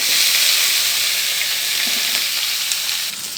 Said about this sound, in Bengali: সবজিগুলো দিয়ে পেঁয়াজের সাথে একসাথে ভেজে নেব।